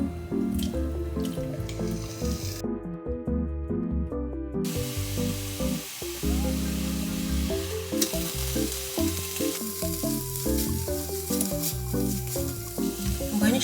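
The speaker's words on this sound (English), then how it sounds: "I chopped up my kimchi like this, and I put some olive oil in my pan and heated it up" Chopped kimchi crackles and sizzles in heated olive oil in a pan, a steady frying hiss mixed with background music and no talking.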